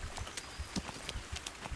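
Horse galloping in the medieval game Kingdom Come: Deliverance, rapid rhythmic hoofbeats close by at a steady pace, with faint bird sounds in the background and no voices.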